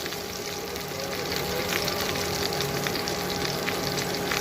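Pointed gourds frying in hot oil in a pan make a continuous close sizzle with a crackling hiss that grows slightly stronger partway through.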